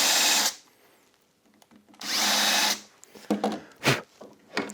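A power drill countersinks into a round piece of wood in two loud, close bursts of whirring, each about half a second to a second long, followed by a few sharp knocks and taps.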